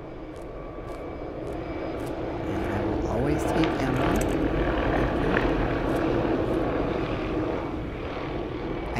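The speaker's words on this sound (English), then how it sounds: "I hear it. I hear the helicopter." Helicopter flying overhead in The Living Remain, a VR zombie survival game, a steady low engine drone that swells through the middle and fades slightly, heard under a player's talk.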